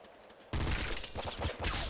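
Rapid assault rifle fire in the Nuclear Throne video game bursts in abruptly after a quiet moment, a loud, dense string of crackling shots that continues to the end.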